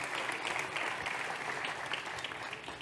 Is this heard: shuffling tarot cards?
no